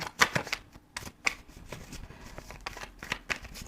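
A deck of tarot cards being shuffled and cut by hand close by, with quick papery riffles and soft slaps in uneven bursts and quiet gaps between them.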